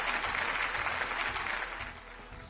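A studio audience at a Malayalam reality game show claps for a contestant named Shiju. The applause is fairly soft, a steady wash of hand claps that eases off slightly toward the end.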